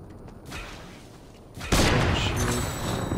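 Sniper gunfire in a video game: a loud sharp boom rings out partway through over a background of game noise, followed by sustained rumbling clatter.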